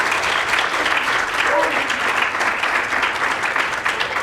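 Sustained audience applause at a TEDx event following a card trick, a full steady wash of clapping from a sizeable crowd throughout, with faint voices mixed in.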